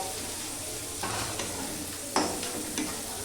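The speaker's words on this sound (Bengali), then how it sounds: "ওই পেঁয়াজটা দিয়ে একটু ভেজে নেব। পেঁয়াজটাকে একটু লাল হতে দেব।" Chopped onions frying in a pan, a constant close sizzle with periodic scrapes and knocks of a spatula stirring them.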